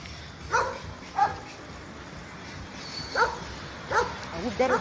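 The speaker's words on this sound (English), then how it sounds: "we've got a dog over there that is security" A dog barks in a Yaoundé neighborhood at night, with about five sharp, separate barks spread across a few seconds from a moderate distance over a low background hum.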